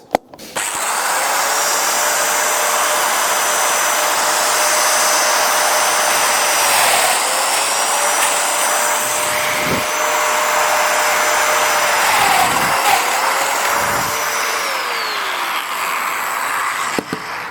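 A Festool Domino joiner cutting mortises in shelf boards, its motor whining loud and close in a long continuous run, with several short dips in pitch as each plunge cut is made.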